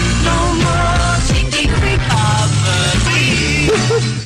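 Short snippets of sung music spliced together into one continuous phrase, loud and dense, with abrupt cuts between pieces.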